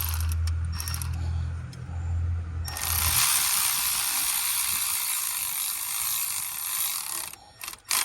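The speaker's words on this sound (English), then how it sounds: "Screw everything in by hand first before you go to use your ratchet." A ratchet works the bolts on the plastic thermostat housing of a 2015 Jeep Grand Cherokee, a steady close mechanical clicking over a constant background hiss that runs for several seconds.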